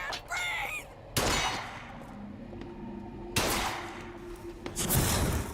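Birds cawing in the video game Bioshock Infinite Burial at Sea, a few harsh calls near the start, followed by loud thuds and a steady ambient hum.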